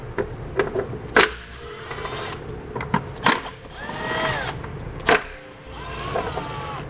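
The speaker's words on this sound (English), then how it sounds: "Now we can remove the 10mm bolts." A power tool spins out 10mm bolts in a vehicle's fender well while air helper springs are installed. Three sharp clicking bursts are each followed by short whirring runs, close and fairly loud, with no talking.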